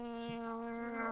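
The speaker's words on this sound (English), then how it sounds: "Oh, I got a bee in my bee suit." A honeybee trapped inside a beekeeper's suit buzzes with a steady, close, droning hum for a brief moment.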